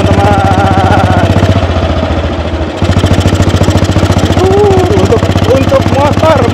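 A 1948 AJS 500 custom motorcycle rumbles on a test ride, its engine throbbing loud and close with a rapid, even pulse that dips briefly, while someone talks over it.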